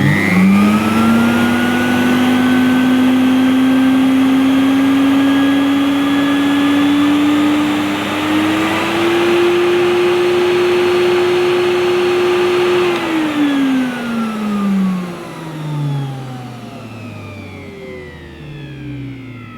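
A Hoover S4488 Aquajet multi-function vacuum cleaner runs with a loud, steady motor whine that rises slightly in pitch, then winds down as it switches off, with no one talking.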